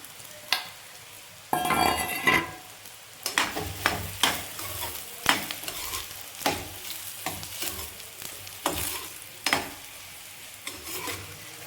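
Soya chunks (nutri) fry in hot oil in a pan while being stirred, giving a steady sizzle broken by repeated scraping strokes at an uneven rhythm, close and fairly loud.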